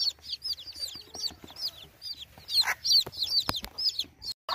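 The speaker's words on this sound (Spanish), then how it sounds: "ya anda la gallina aquí en la jaula con los pollitos" A hen clucks among her chicks inside a cage, repeated short clucks and soft chirps in an irregular stream, close and clear, with a few sharp knocks near the end and no talking.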